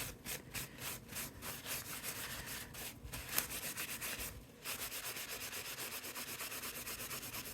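A silver-embossed card surface is rubbed and buffed by hand, producing quiet, rhythmic back-and-forth scrubbing strokes close up, with a short pause midway before the rubbing resumes.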